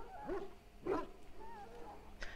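A dog whimpers and whines in short plaintive bursts, two stronger cries then softer whines, close and moderately quiet.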